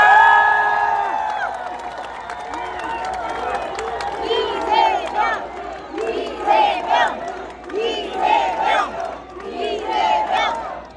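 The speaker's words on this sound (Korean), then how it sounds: "박수 좀 크게 쳐주세요." A rally crowd at an election campaign event in Pohang cheers and shouts in loud, rhythmic waves of massed voices that rise and fall, with some higher whoops among them.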